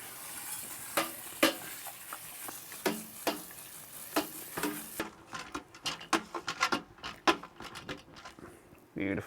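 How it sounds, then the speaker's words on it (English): Grain being stirred into the mash while brewing an ale, with scraping, knocking strokes and soft splashes in an irregular rhythm, close and moderately loud, quieter clatter continuing after the first half. "We give that a couple more stirs up during the mash"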